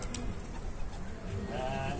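A caught stray pigeon, held close by hand, gives soft low cooing amid handling rustle, with faint voices in the background.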